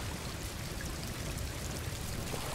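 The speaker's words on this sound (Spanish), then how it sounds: "¿Y cómo coño lo hago para parar esa lluvia?" Rain in the video game Star Wars Jedi: Fallen Order falls as a faint, steady hiss of downpour and patter, continuous and unbroken throughout.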